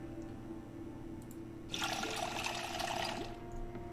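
Water pours into a plastic bottle in the survival game Project Zomboid, a steady hissing fill that starts abruptly partway through and runs on alone over a low background hum.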